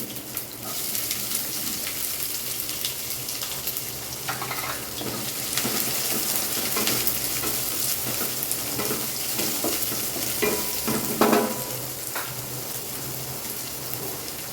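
Onion, green chilli, ginger and garlic fry in a pan for beetroot palya, making a continuous crackling sizzle with scattered stirring clatter and a few sharper scrapes near the end, no talking.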